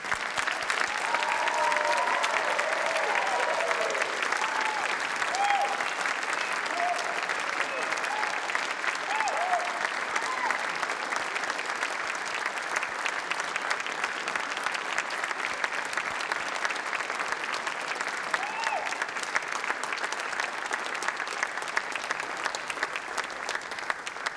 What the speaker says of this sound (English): will guests and supporters join me please in applauding this wonderful collection of graduates we have in front of us?